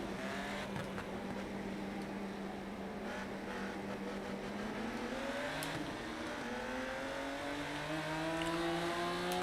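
A racing car engine in the Xbox game Rennsport, early access, hums steadily then climbs in pitch as it accelerates and shifts, a continuous close drone that grows slightly louder toward the end.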